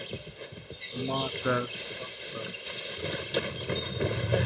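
Horse hooves clip-clop in a Far Cry 6 game scene as a steady trotting rhythm over a bed of insect and cricket chirring, while a voice speaks briefly over it.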